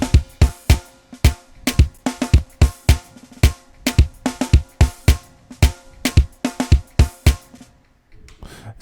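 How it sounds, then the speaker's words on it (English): Addictive Drums software kit playing a basic MIDI groove for a Nigerian gospel praise arrangement, with steady kick, snare and hi-hat hits in a loud, regular pattern that stops near the end. "So this is addictive drums."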